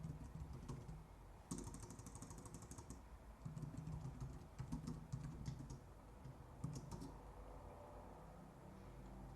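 Quiet, close keystrokes on a computer keyboard as a password is typed, short bursts of clicks separated by brief pauses, with no talking.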